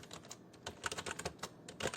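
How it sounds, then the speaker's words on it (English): Quick, uneven keystrokes on a computer keyboard, typed in bursts of soft clicks at close range with no one talking. "I'm just going on typing whatever."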